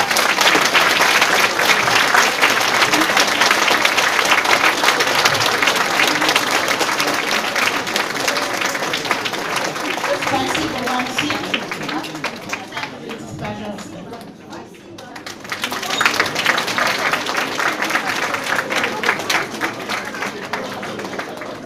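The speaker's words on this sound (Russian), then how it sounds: "она заслужит море аплодисментов" Audience applause at a school's 45th anniversary celebration, steady dense clapping that fades and dips briefly near the end before swelling again, with a crowd murmur and voices beneath.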